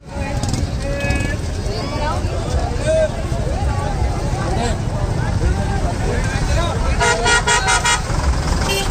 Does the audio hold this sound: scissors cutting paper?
no